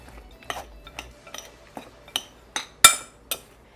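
Chopped macadamia nuts and other dry ingredients being mixed in a bowl, with a series of light clinks and scrapes of a utensil against the bowl, irregularly spaced and fairly close.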